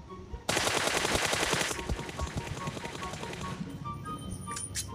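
Rapid automatic gunfire from a shooter video game fired while prone: a loud, dense burst of shots followed by a quicker trailing rattle of rounds that fades, with faint metallic clicks at the end.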